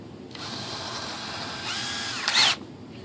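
A power drill whirs steadily for a couple of seconds drilling a small hole for a battery mount in a composite sailplane model, its pitch dipping briefly as it bites in, then rising to a louder whine before stopping.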